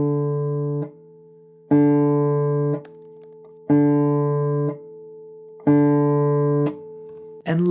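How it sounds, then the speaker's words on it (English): Four fingerstyle thumb strokes on the fourth string of a guitar, each a clear sustained pitched note ringing about a second before being damped, evenly spaced and close, with no talking. "we're going to play a bunch of strokes on the 4th string with our thumb"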